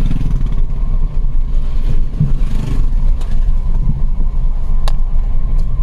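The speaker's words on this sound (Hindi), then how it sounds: "अभी कुछ बाइकर्स भी आ रहे हैं सामने से।" Several motorbikes come along a jungle road, with a loud, steady engine rumble close by and a faint clatter, and no talking.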